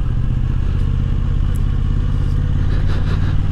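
A Moto Guzzi V85 TT motorcycle ridden slowly over rough tarmac on a green-lane trail ride, its steady low engine drone joined by continuous road rumble and light clatter, close and constant throughout.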